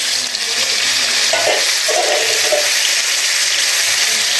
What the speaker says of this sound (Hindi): चिकन को भी फ्राई कर लेते हैं ताकि इसमें थोड़ा सा कलर आ जाए